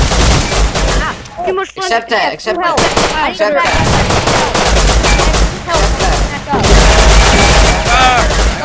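Rapid gunfire and machine-gun bursts during a raid in the video game Rust, loud and dense throughout, with excited talk over the shooting.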